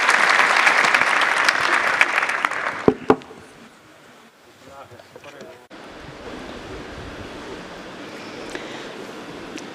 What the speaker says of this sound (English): Give a round of applause to our esteemed panel for their amazing insights.